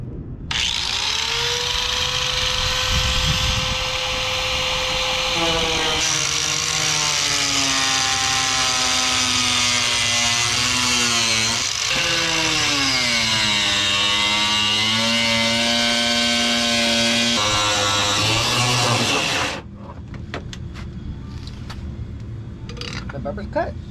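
A power tool cutting through a car bumper, a loud continuous high whine that bends in pitch as the blade loads and frees up, then cuts off abruptly, leaving a quiet room with faint clatter.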